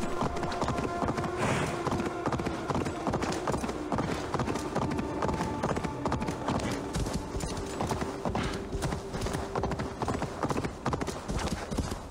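Rapid, steady clip-clop of galloping horse hooves in the video game Assassin's Creed Valhalla, loud and close, over a continuous background of game music.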